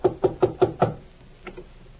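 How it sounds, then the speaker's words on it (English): Knocking on a door as a radio drama sound effect: five quick, evenly spaced raps, then a pause and two softer knocks, close and clear with no talking. "I'm knocking at the door."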